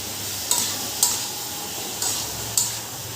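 Coriander and cumin spice mix stirred in a pan, four evenly spaced scraping clinks of a spoon against the pan over a soft steady sizzle and low hum.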